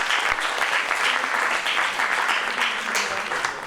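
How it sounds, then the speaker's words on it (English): Dense, steady audience applause fills the room from start to finish, many hands clapping at an even loudness after a workshop introduction of medical doctors, with a faint voice or two underneath. "Please give them a big round of applause"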